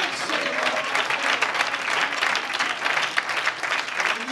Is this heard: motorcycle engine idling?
no